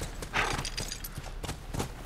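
Horse hooves clop in a short irregular run while riding in The Last of Us, soft and fairly close, with a few sharper hits among the steps.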